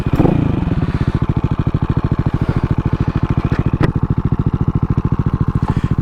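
A CCM Spitfire bobber motorcycle engine idles loud and near with an even, throbbing beat, a couple of brief sharp clicks cutting through the running engine.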